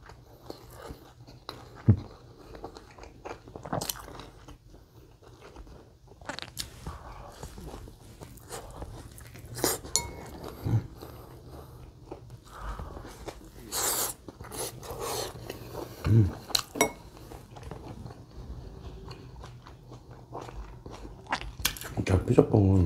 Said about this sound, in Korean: 겉부분이 되게 바삭바삭해요